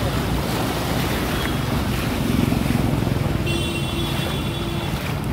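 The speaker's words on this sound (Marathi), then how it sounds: "हे जे 4 व्हीलर वगैरे गेले ना की हे लाटा येतात पाण्याच्या" Floodwater waves on the rain-flooded Devgad–Jamsande road wash and surge as four-wheelers pass, a loud, continuous rushing roar with a low vehicle hum underneath and a thin whine appearing late.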